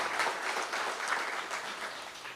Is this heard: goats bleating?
no